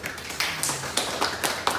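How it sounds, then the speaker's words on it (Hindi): A class applauding in an event-management production classroom. Scattered, fairly soft claps land in uneven bursts, with a few hands clapping at a moderate distance. "चलो पहले इसके एक बार जोरदार ताली बजाओ"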